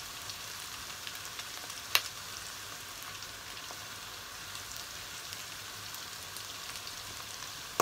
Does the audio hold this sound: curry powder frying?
yes